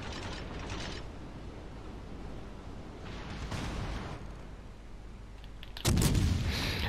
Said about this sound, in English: Got some Iowa shots coming in